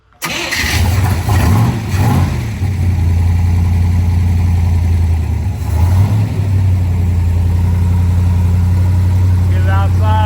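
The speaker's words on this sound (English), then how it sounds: "Cold start, 67, 427, 435. Motor's cold, been sitting here for, I don't know, about a week now." A 1967 Corvette 427 rated at 435 hp with factory side pipes cold-starts after sitting for a week, cranking briefly before the big engine catches and settles into a loud, steady, lumpy idle.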